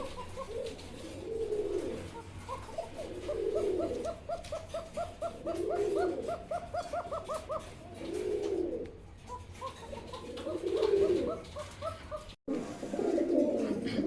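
A Bangshiraj coca pigeon coos in long, repeated phrases close by, each call swelling and fading in a steady rhythm with short pauses between.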